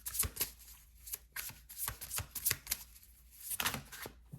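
Deck of oracle cards being shuffled by hand, bursts of crisp riffling and soft slaps in quick irregular clusters, close and quiet with no voices.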